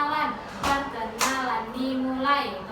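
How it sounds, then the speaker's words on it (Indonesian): Group hand clapping in a classroom clapping game, with a few distinct claps standing out over a continuous background of children's voices. "caranya itu tepuk tangan dulu satu kali, dua tangan"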